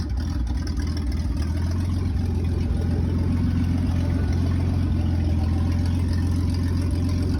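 Engine of a 1989 Jeep Comanche MJ 4x4 pickup running steadily, a continuous low rumbling idle with no pauses, close and fairly loud.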